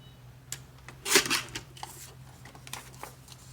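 Cricut Pearl paper is trimmed with one quick, crisp slicing sound near the middle, surrounded by faint rustles and light handling taps at close range.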